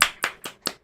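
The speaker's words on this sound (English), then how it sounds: "I think a round of applause." Four sharp, separate hand claps in an uneven rhythm after a children's storytelling session, close and fairly quiet with no talking over them.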